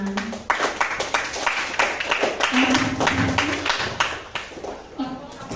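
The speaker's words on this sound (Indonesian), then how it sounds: "silakan tepuk tangan untuk kelompok 5" Classroom audience clapping for a student group after a math presentation, a steady crowd of hand claps throughout with voices mixed in.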